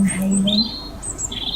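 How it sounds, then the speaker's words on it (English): Birds chirp and tweet in short high calls while a soft voice speaks over them nearby. "I'm not sure if you can hear the birds, but they're lovely, chattering to themselves."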